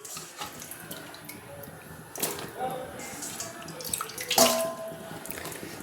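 Peeled moringa drumstick stalks go into a pot of hot water, with running, sloshing water and two sharper splashes up close.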